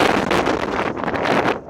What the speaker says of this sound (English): oh, the wind's picking up now.